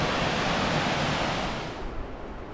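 Cavern Falls, a waterfall in the woods near Saluda, North Carolina, roars as a steady, dense rush of falling water that eases slightly toward the end.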